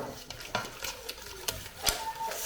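A whisk or spoon stirs eggs and sugar together in a bowl for whey pancakes, giving irregular light clinks and scrapes against the bowl with soft swishing between them, close and fairly quiet.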